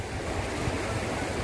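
Water from a stream rising in Gua Lalai, a limestone cave, rushes and hisses steadily and fairly loudly, a continuous broadband wash with no voices over it.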